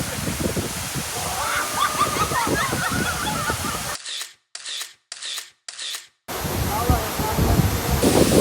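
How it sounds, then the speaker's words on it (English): Water rushes and splashes steadily from a small monsoon waterfall at Amboli, heard close and loud, broken midway by a few seconds of near silence filled with short bursts. "There were several tiny waterfalls in between."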